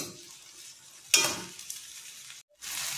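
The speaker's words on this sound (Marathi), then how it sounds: "आपल्याला ही अशीच आता 2 मिनिटं परतायची आहे" Cluster beans with tomato and onion sizzle and fry in a pan, with a sharp stirring scrape around one second and a steady frying hiss throughout that cuts out briefly near the end before resuming.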